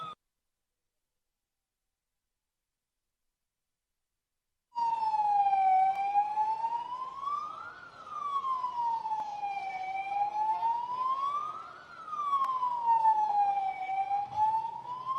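An ambulance siren wails loudly in a steady, rising-and-falling sweep after a stretch of silence, sounding near at an outdoor public stage event.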